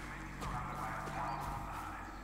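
Steady clip-clop of horse hooves trotting at a moderate pace in Far Cry 6, under a constant background hum, with faint game sound effects.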